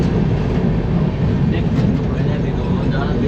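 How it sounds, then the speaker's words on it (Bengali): Coromandel Express pulling out of Jajpur Keonjhar Road station in Odisha, heard from on board as a steady, loud low rumble of wheels and carriage noise, with a broad even roar throughout. "আমাদের ট্রেন ছেড়ে দিল জাজপুর কেওনঝাড় রোড।"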